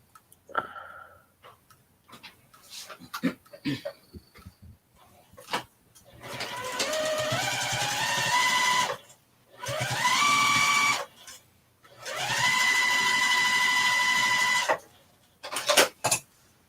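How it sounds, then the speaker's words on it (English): A sewing machine topstitches a tote bag in three long sustained runs with brief pauses between, its whirring motor climbing in pitch as it speeds up, preceded by a few scattered handling clicks and taps. "Just about to give this a little toppy stitch."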